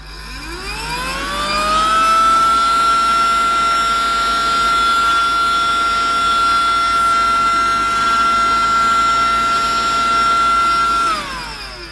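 Rowenta toy cordless vacuum cleaner by Smoby switching on, its motor whining up to a steady high-pitched electric hum that holds for several seconds, then winding down as it is turned off.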